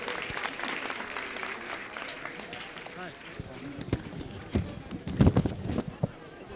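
A crowd at a foundation-stone ceremony in Jabalpur applauds in a busy, continuous patter that swells near the end, with a voice speaking over it at times.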